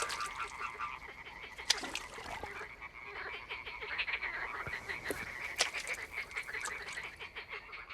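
Tree frogs croak in a dense, continuous chorus in a quiet, isolated spot, with overlapping calls and a few sharper individual notes rising above the steady buzz.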